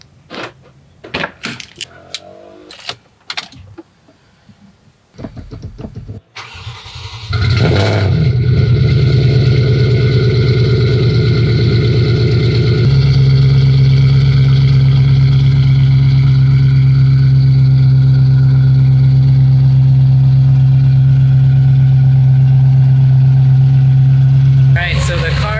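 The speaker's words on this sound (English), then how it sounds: "let's go ahead and turn on the car." A supercharged car engine with a VF Engineering supercharger, tuned for E85 fuel, starts after some quiet handling noises. It catches with a loud burst, then settles into a steady, loud, droning idle that holds to the end.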